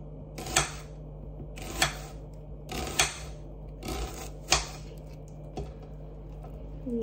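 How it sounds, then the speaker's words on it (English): A knife chops through an onion on a board in five sharp, separate strikes spaced about a second apart, crisp and near, with a quiet background between cuts. "I'm now just gonna chop up this onion."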